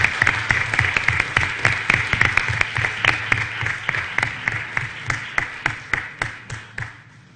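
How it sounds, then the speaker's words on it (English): Round of applause from the audience at a school board meeting, honouring children, their parents and teachers: dense steady clapping fills the room, then thins into scattered individual claps that fade out near the end. "let's give one more round of applause for these kids"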